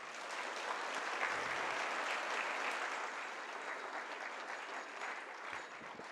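An audience at a Guru Purnima worship gathering applauds, a dense sustained wash of clapping that swells early and gradually thins out, heard at a moderate distance.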